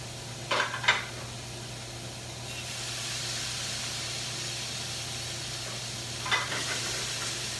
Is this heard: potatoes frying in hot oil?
yes